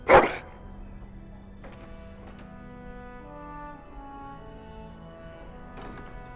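A dog in the video game Dragon Age: Origins gives one loud bark at the start, followed by quiet sustained game music with no further barking.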